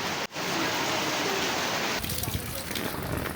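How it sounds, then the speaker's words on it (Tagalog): Steady rain pours outside, a dense, even hiss that fills the whole stretch, with a brief dip near the start and a slightly rougher, patterin texture toward the end. "Umuulan pa."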